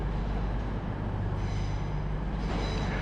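TransPennine Express Nova 1 train arriving at Newcastle station, a steady loud rumble with low engine drone and rolling wheel noise throughout, no talk.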